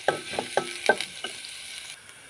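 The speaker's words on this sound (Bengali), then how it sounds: "তেলের সাথে পেঁয়াজটা আমি আস্তে আস্তে একটু মিশিয়ে নিতেছি" Chopped onion being stirred into hot oil in a pan for an egg dish, with several scraping stirs in a loose rhythm over a light sizzle, close and fairly quiet, no voices.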